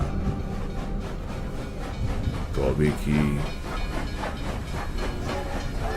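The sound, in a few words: train departing, audio drama sound effect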